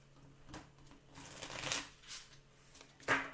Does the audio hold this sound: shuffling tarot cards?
yes